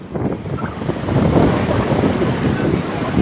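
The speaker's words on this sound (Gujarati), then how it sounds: "આમ જોઈ લે કેટલા મોટા મોટા મોજા આવે છે." Loud, continuous roar of large ocean waves crashing nearby at Dwarka, with heavy wind buffeting the microphone.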